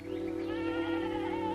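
Goats bleat in a drawn-out, quavering call over a steady low hum.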